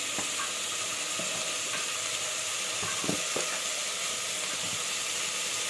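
Masala powder frying in a pressure cooker for biryani gives a steady broadband sizzle with a few scattered clicks and stirring scrapes, close and moderately loud, with no voices.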